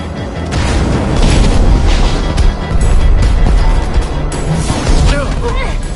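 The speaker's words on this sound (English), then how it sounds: "Fireworks! Good thinking, Lucas!" Fireworks blasting in Minecraft Story Mode, a run of loud booming bursts with crackle, joined by game music and rumbling action noise.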